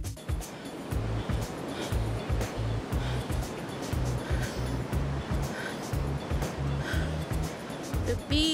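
Ocean surf washing beneath a beach pier in Santa Monica, a steady broad rush of waves with faint wind and low rumbling thuds underneath, moderately distant.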